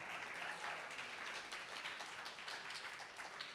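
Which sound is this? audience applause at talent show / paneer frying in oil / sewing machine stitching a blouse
audience applause at talent show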